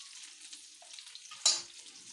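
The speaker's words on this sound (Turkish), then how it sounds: "Köftelerimizi pişiriyoruz. Tereyağımız ocakta eriyor." Meatballs frying in a pan while butter melts on the stove: a soft, steady sizzle with a sharp, louder crackle partway through, then settling back to a quiet hiss.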